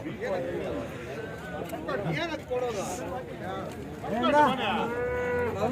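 Cows moo repeatedly at a busy Sunday cattle market in Chintamani, their drawn-out calls rising over a constant babble of nearby voices and crowd chatter.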